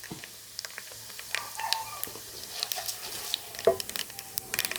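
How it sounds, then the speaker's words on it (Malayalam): Mustard seeds and urad dal crackle and sizzle in hot oil, with scattered sharp pops and spits over a low, steady background hum. "നമ്മുടെ കടുകും ഉഴുന്നുമൊക്കെ മൂത്തിട്ടുണ്ട്."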